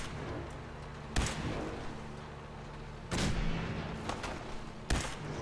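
Heavy cannon and gunfire in the Fallout 4 video game, with three loud booming blasts spaced a second or two apart over a steady low rumble.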